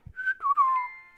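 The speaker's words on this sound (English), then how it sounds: "I set it so every time you whistle, it makes a ding." Someone whistles a short, clear tune of a rising note, then a falling glide, ending in a steady sustained tone, close and alone in a quiet room.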